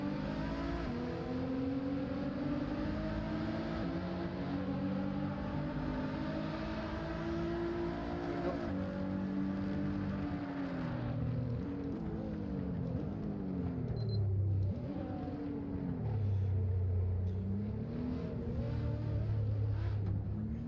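A racing car engine in the Assetto Corsa sim racing game drones loudly and steadily, with its pitch climbing and falling through gear changes and revs. No voices.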